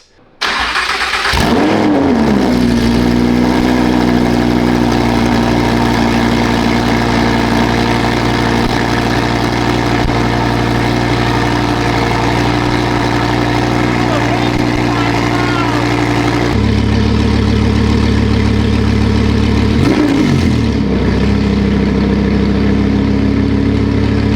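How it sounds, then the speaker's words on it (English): A Lamborghini Huracan engine running with no exhaust fitted cranks and fires, then idles loudly with a raw, unmuffled roar, revving briefly and dropping back, with a second blip near the end. "What does a Lamborghini Huracan sound like with no exhaust?"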